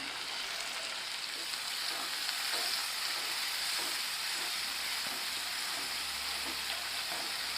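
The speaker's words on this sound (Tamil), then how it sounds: "இப்போ நம்ம வந்து வெட்டி வச்சிருக்கிற தக்காளியை சேர்த்துக்கலாம்" Chopped tomato goes into onion and garlic frying in a pan for a Tamil prawn pepper thokku, under a continuous, even, fairly quiet sizzle and hiss that holds steady throughout.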